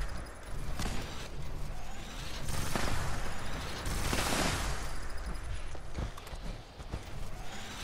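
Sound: Gatling plasma gun firing in video game Fallout 76

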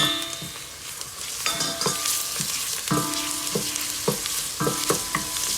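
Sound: ground meat frying with onions in a pan

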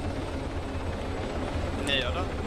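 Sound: helicopter landing nearby in the video game Arma 3 Exile

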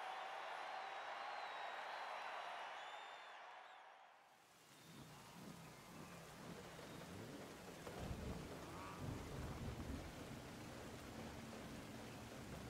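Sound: rain and thunder in the video game Forza Horizon 5

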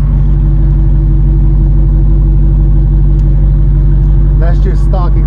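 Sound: stock exhaust of 2019 Dodge Charger R/T 5.7 liter V8 Hemi idling

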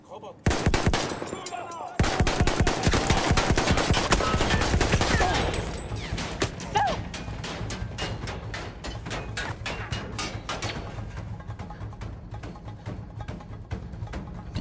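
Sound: gunfire from the video game Battlefield 1

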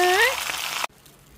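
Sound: stir-frying cabbage with garlic and bacon in pan

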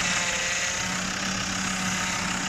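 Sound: power steering pump noise on Land Rover Discovery 2 Td5 engine

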